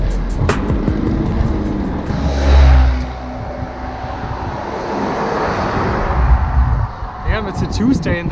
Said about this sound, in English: It's a Tuesday and there's so much traffic.